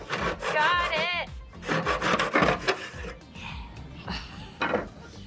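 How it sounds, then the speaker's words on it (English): Wooden dowels for the rungs of a ladder are sawn to size with a hand saw, giving close, rasping strokes in an uneven rhythm. Faint talk and a brief whistling tone run underneath. "we're cutting the bars of the ladder down to different sizes"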